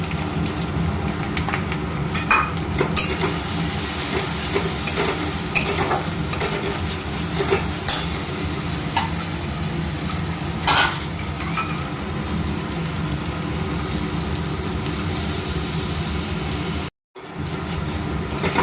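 Cashew and poppy seed paste fries and is stirred in a pan, a steady close sizzle with scraping spoon strokes throughout, broken by one brief dropout near the end.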